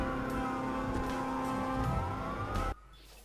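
A police car siren wails during a car chase in the video game Watch Dogs, loud and sustained over engine noise before cutting off abruptly near the end.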